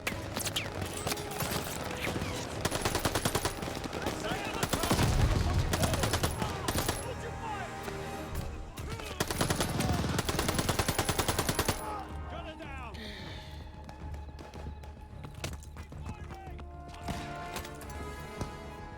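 Sustained machine gun fire in the World War II shooter Call of Duty Vanguard, with dense bursts of rapid shots over heavy battle noise and music that grow loudest midway, then give way to scattered distant gunfire.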